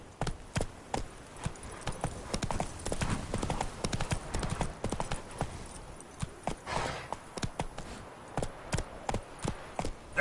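Hooves of the horse Roach clip-clop in The Witcher 3: Wild Hunt, a quick, uneven run of close hoof strikes that fades at moments, with a brief whinny-like sound mixed in.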